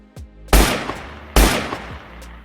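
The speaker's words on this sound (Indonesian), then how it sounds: "terdengar 2 suara tembakan" Two sharp, loud gunshots about a second apart, each a sudden broadband blast with a short decaying tail.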